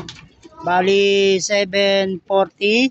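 Pigeons coo nearby in several warbling, rounded calls, separated by brief pauses, with someone talking faintly underneath at the start.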